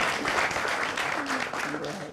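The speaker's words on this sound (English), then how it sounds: "A round of applause for GBC." Audience applause at a Ghanaian presidential campaign encounter with candidate Mahama, steady clapping from a crowd lasting the whole stretch while a voice or two sounds faintly underneath.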